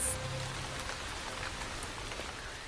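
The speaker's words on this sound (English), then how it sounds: "The rains are welcomed by most animals," Steady rain falls in a dry-season savanna valley as a drought breaks, a continuous soft hiss with scattered drop patter and no voices.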